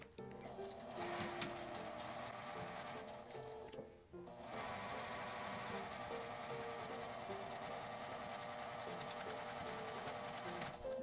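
A sewing machine stitches a fabric face mask along a seam line, its fast, even needle chatter running steadily and close, with a brief pause near the middle before it picks back up.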